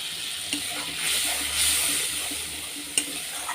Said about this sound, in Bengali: দিয়ে মশলাটা ভেজে নিই ভালো করে